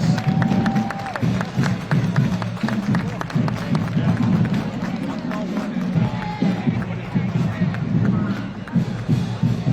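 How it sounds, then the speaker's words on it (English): Crowd along a Veterans Day parade route in Fayetteville, North Carolina, claps and cheers for a disabled veteran, a sustained wash of applause and voices under a loud announcer speaking through a public address system. "Let's give him a round of applause"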